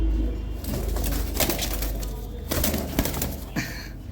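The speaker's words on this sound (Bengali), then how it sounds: "দেশি কবুতর তো অনেক ছটফটা।" Local deshi pigeons coo nearby in short bursts, with some wing flutters and shuffling noises between the calls.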